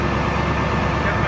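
A 1974 Steiger Bearcat tractor engine runs through dual exhaust pipes, heard from inside the cab as a steady, rumbling drone under a voice.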